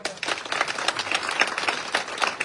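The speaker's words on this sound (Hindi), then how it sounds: "जोरदार तालियां जरूर दें" Loud, dense applause from an audience at an outdoor village political rally in Haryana, steady rapid clapping throughout with no break.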